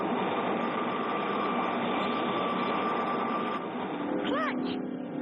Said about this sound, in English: The second stage drops clear, and the third stage rockets light up.